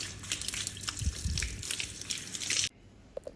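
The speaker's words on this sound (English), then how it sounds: "first you have to wash off the spirulina before you apply your shampoo" Water running and splashing as spirulina is rinsed out of natural hair before shampoo, a steady close gush with drips that stops abruptly near the end, followed by a couple of faint drops.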